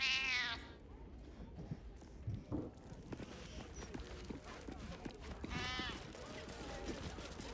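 Cat in the Baldur's Gate 3 video game letting out two drawn-out meows several seconds apart, fairly close and clear, with a person talking softly between them.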